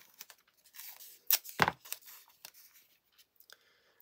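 Low-tack tape handled and pressed down onto a card during papercraft card making, with a sharp tearing rip near the middle amid soft scattered crinkles and taps, close and fairly quiet with no voice.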